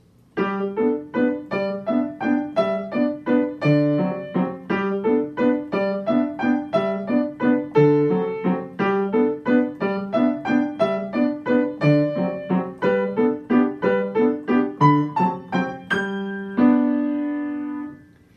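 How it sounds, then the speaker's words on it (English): A piano plays a steady melody over repeated chords in the lower register, notes struck in an even rhythm, ending on a held chord that rings out. "you can play the melody with one hand and free your left hand up to play a"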